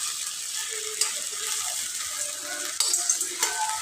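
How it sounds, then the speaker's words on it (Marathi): Stuffed brinjal with green chilli and masala sautéing in a pan, a steady close sizzle with occasional stirring scrapes and clicks throughout. "त्याच्यात कच्चापणा जाण्यासाठी हे चांगलं परतून घ्यायचं मसाला पण आणि वांगे पण दोन्ही परतून जातात"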